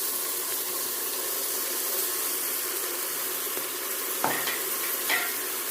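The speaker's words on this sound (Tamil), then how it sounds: "இந்த பேஸ்ட்டு நல்லா எண்ணெயிலேயே வதங்கி எண்ணெய் பிரிஞ்சு மேலே வந்துடணும்." A ground paste of ginger, garlic, cinnamon, cloves and fennel fries in oil for chicken biryani, giving a steady soft sizzle with a couple of brief stirring scrapes near the end.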